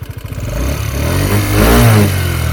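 A Peugeot Kisbee 4T injection scooter with catalytic exhaust, its small four-stroke engine sputtering at idle and then revving up briefly, close and fairly loud, with no voices.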